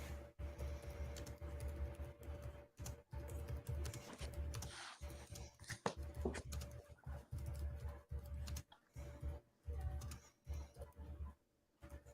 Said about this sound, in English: Man, I hate typing on a computer.